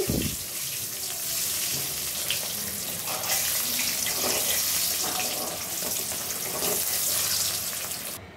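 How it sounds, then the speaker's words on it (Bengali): Eggs coated in turmeric and salt fry in a pan, giving a dense, loud, steady hiss of sizzling oil that swells slightly and runs unbroken throughout, close up. "আমি ডিম হলুদ লবণ মাখিয়ে ভেজে নিচ্ছি"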